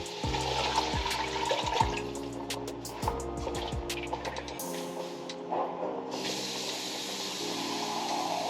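Water pouring into a cooking pot of collard greens on the stove, a steady running splash with gurgling bursts near the start and a brighter stream toward the end, close and fairly loud.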